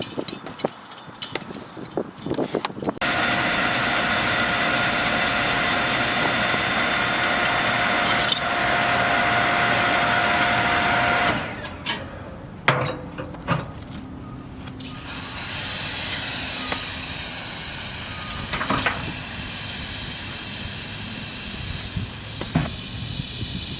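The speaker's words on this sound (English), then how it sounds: "getting a propane tank filled real quick" Propane tank being filled at a Tractor Supply store, a loud steady gas hiss lasting several seconds before dropping to a quieter hiss with scattered clicks and handling knocks.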